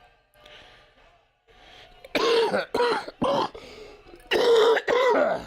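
A run of harsh, close coughs in quick bursts, with faint murmuring before them.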